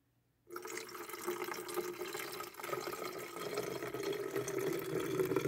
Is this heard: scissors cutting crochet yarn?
no